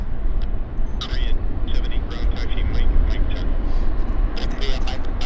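A SmartLynx A330 airliner taxis out at Vancouver Airport, producing a constant low engine rumble heard from a distance alongside wind-like noise. Faint voices can be heard in the background.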